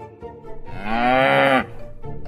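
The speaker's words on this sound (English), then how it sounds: "The cow." Single cow moo, one loud sustained bellow lasting about a second, close and clear, with quieter faint sounds before and after it.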